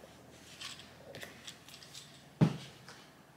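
Scissors snipping through scrunchie bow fabric in a quiet room: a few faint, quick cuts, then one sharp louder snip near the end.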